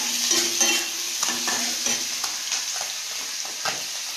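Prawns with spinach, cumin and chopped onion frying in a very hot pan, a steady soft sizzle with light stirring scrapes, no voices.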